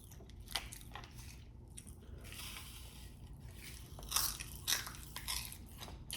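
Close crunching bites and wet chewing of a grape-flavoured Brazilian candy snack, with a few sharp crunches over steady mouth noise and no talking.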